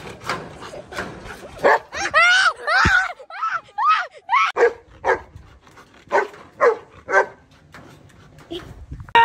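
A dog barks and whines outdoors in the Philippines, giving a run of close, uneven barks and yelps with short gaps between them.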